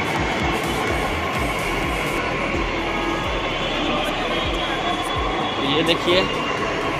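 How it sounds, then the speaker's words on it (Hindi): A Delhi metro train runs between Rajiv Chowk and Nirman Vihar with a continuous rolling rumble and wheel hum, heard from inside the carriage while someone talks over it. "और ये रहा मेट्रो"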